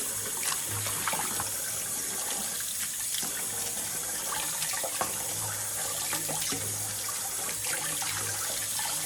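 Tap water runs steadily over noodles being rinsed in a sink to wash off the starch while preparing Korean bibim guksu, a continuous splashing stream with faint clinks, no voices.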